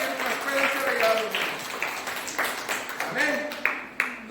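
A church congregation claps for the Lord in a Spanish-language service, scattered hand claps building under a preacher's voice and singing, with loud individual claps near the end.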